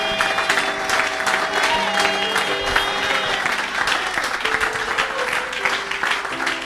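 A French-speaking church congregation applauds and acclaims during a Sunday service, with steady, dense clapping mixed with shouts and voices, loud and continuous throughout.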